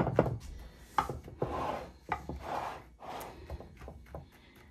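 Crackers being mashed into a moist broccoli casserole sauce, giving a run of close, soft crunching and squishing strokes in an uneven rhythm, with no talking.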